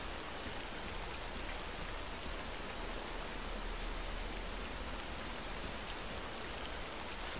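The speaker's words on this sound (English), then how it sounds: "It's raining." Steady, even hiss of rain falling in the video game Call of Chernobyl, a dense continuous wash of drops with no voices.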